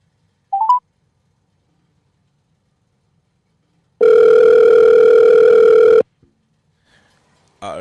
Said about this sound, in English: See if she answers the phone.